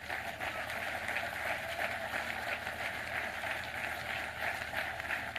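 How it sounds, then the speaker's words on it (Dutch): Sustained audience applause at a Flemish political rally, a dense steady wash of many hands clapping at even loudness, with no talk over it. "APPLAUS"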